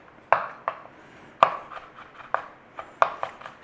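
A knife chops garlic into chunky pieces on a cutting board, giving about a dozen sharp, irregular taps up close with no voices.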